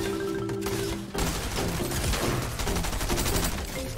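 MK7 assault rifle fire in Fortnite: a dense, continuous stream of rapid gunshots with game effects throughout, loud and steady, no voice.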